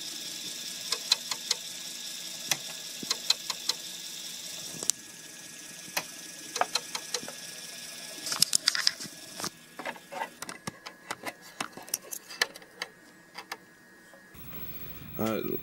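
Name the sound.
Commodore 1541-II floppy disk drive stuttering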